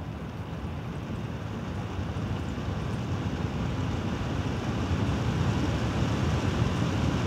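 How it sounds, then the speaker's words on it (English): Inwin NR24 Nebula 240mm ARGB AIO cooler fans spinning at full 100% speed, about 1900 RPM, giving a steady, loud, close broadband whoosh of rushing air that swells slightly over several seconds with no talking. "It hits 1900 RPM and it starts to get a bit loud."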